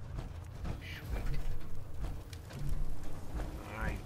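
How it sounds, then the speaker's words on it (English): Rainfall in the video game Fallout 4, a dense steady hiss and patter running through the whole stretch, with a few faint bird-like chirps and rustles on top. "And it's raining."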